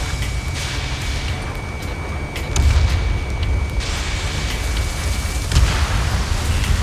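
Explosions of destroyed targets in the Ace Combat 7 combat flight game, with deep rumbling booms that swell around two and a half and five and a half seconds over steady loud jet-engine roar and a thin tone.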